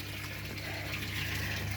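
Water flowing and splashing steadily into an aquaponics grow bed before a bell siphon is fitted, a continuous low trickling gush heard close by with no talk.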